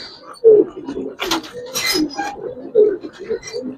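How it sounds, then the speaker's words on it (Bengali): A large female Giribaz pigeon coos nearby in soft, low, throaty bursts, with a few brief louder rustling or flapping noises breaking in between the calls. "এটা একটা মাদি কবুতর শাওন ভাই, বিগ সাইজের মাদি কবুতর"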